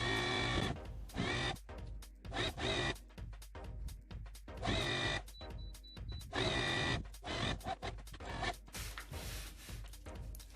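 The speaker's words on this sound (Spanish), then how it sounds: "Esto simplemente vamos a alinearlo en la máquina y cosemos." Sewing machine stitching a quarter-inch seam on a patchwork baby quilt, running in loud, close bursts of rapid mechanical whirring separated by brief pauses.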